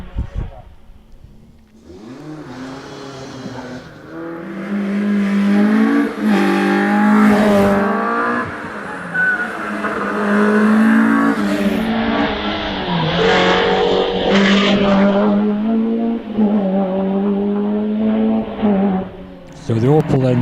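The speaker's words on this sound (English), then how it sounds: "Colin Graham approached the top of the hill in this lovely Opel Ascona." An Opel Ascona racing car climbs the hill at a British Championship hillclimb in Doune, its engine revving hard and rising and falling through the gears, loud and close, with a voice talking over it.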